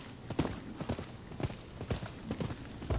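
Horse hooves clip-clop at a steady walking rhythm on the ground in the Rise of Ronin video game, the evenly spaced thuds close and moderately loud over a soft ambient background.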